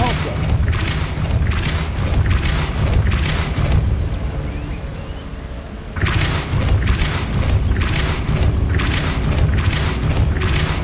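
Repeated heavy booming blasts of the Depulso spell in the PS5 game Hogwarts Legacy, loud, dense thuds in quick succession, pausing briefly before resuming.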